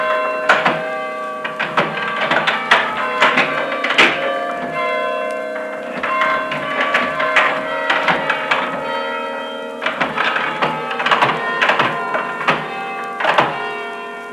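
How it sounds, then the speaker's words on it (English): Church tower bells in Boston ring out loud and resonant, overlapping strikes in an irregular peal, with a clunking mechanical movement of the bells and a lingering echo beneath the tones. "you hear, as Paul Revere and his friends heard, the mechanical movement of the bells themselves"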